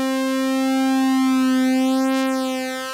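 A steady sine tone from a Nimbus digital polyphonic synthesizer with a slow detuned beating wobble, held alone for a few seconds and fading slightly at the end.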